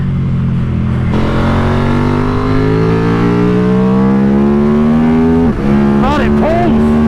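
A 2024 KTM RC 8C race motorcycle, 142 kg and 135 bhp, revs loud and close with a steadily rising engine pitch, then a brief drop at the shift and another climb.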